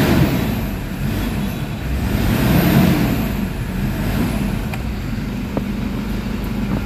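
A Toyota Fortuner engine with a low-power fault revs at around 1,800 RPM after an engine oil treatment, giving a loud, close, sustained roar that swells briefly midway.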